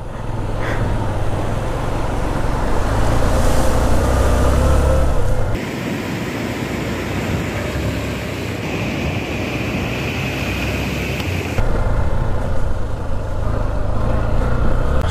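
An off-road vehicle eases through a fast-flowing mountain water crossing on the route from Keylong to Baralacha, with a steady broadband rush of water and engine noise that holds loud and constant, shifting in tone partway through.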